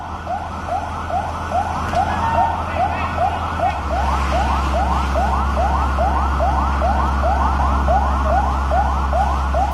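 Fire engine sirens wail in a steady, rapid repeating rise at a burning building in Jakarta, loud and close, with a low engine rumble growing heavier partway through.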